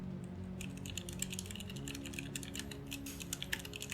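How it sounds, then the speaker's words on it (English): Rapid clacking of keys on a budget Bluetooth hot-swappable mechanical keyboard with non-clicky Outemu switches, steady typing with irregular bursts of sharper clicks over a faint low hum. "And a short typing test."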